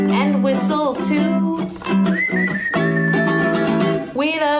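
Someone whistles a brief sustained note within a cheerful children's music-room song, woven between sung harmonies and backing music.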